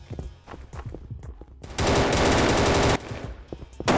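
Rapid automatic gunfire rattles in a Battlefield 2042 team deathmatch, starting as scattered close shots and then swelling into a sustained, dense burst of about a second before breaking back into separate shots.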